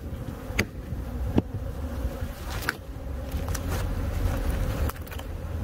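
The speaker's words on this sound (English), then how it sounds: "It's a lot of bees." A swarm of bees buzzes steadily inside a fallen tree, a dense droning hum close by and continuous, broken now and then by sharp knocks and taps.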